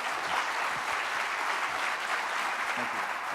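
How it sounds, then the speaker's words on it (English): A crowd claps for two honored guests at a justice-reform event: steady, dense applause at constant loudness all the way through, with no voices rising over it. "Have everybody give us a round of applause for Calvin Johnson and Stephen Salam."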